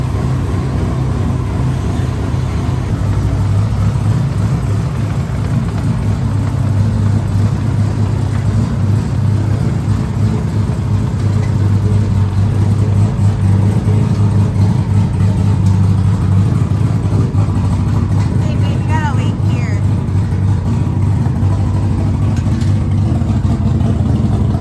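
A built 2JZ engine in a Toyota Supra MKIV, with intercooler piping and exhaust sealed up, runs steadily and loudly close by in a shop, a constant rumble with no speech over it.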